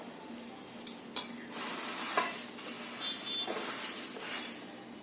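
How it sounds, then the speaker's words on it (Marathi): Puffed millet (bajra kurmura) stirred in a pan with crushed peanuts while making ladoos: steady scraping rustle with a few sharp clacks of the spoon against the pan, moderately close, no talking. "थोडं थोडं घालत पूर्ण मिक्स करून घ्यायचं"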